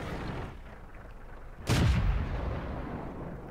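Within a World of Tanks match, one heavy tank cannon shot booms once at mid-distance and rolls off slowly over a low, constant battle rumble, with no other shots.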